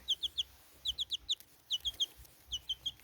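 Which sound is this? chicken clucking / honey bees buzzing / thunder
chicken clucking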